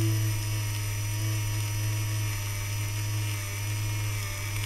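A lathe takes a very thin cut across the commutator of a brushed electric motor being rebuilt, a steady high-pitched whine with a constant low hum, running alone and unchanging.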